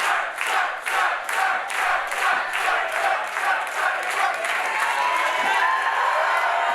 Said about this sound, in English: Phil Shark trying to get the crowd behind him here, live in St. Charles